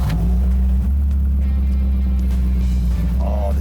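A 1957 classic car pulling away for a ride, its engine giving a loud, steady low rumble heard from inside the cabin, with a brief voice near the end.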